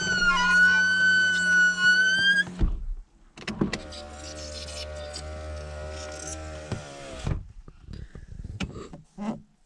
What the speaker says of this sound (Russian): Когда обратно поднимаешь, тоже звук не очень, но когда опускаешь,